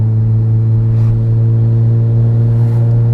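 Rotary-engine car holding a steady, buzzing engine drone with strong even harmonics, rising slightly as it revs, loud and close with no talk over it.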